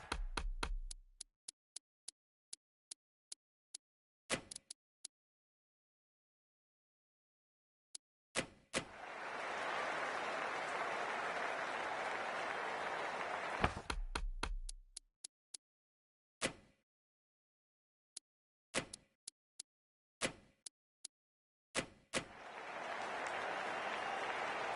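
Crowd applause from a Cricket 24 video game match, Pakistan versus India, rises in two long steady bursts of clapping, separated by quiet gaps with sharp clicks and ticks.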